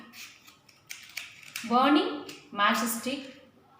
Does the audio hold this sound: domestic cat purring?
no